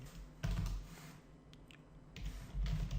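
A few quick keystrokes on a computer keyboard come in short clusters of soft clicks and thumps, close by and fairly quiet, with no talking.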